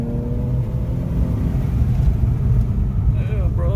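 An Infiniti Q50/Q60 fitted with an Ark Performance exhaust rumbles steadily from outside the car, a low droning engine note held throughout, with a voice briefly audible near the end.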